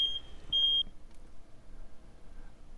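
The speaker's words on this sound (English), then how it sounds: "you can hear that the carbon monoxide detector was set off here" A carbon monoxide detector sounds during a lithium-ion battery pre-thermal-runaway test, giving two short, shrill electronic beeps early on before quiet background noise.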